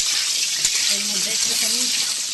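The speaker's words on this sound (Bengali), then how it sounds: "এবার এঁচোড়ের আলুগুলো আমি ভালো করে ভেজে নেব।" Jackfruit and potato pieces fry in hot oil with a steady, close hiss and sizzle, while a faint voice murmurs underneath.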